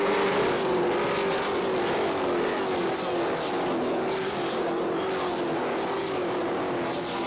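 Race cars running nose to tail around a short oval speedway in a CRA SpeedFest event, a sustained loud engine drone with a steady pitch that persists without break, no talk heard.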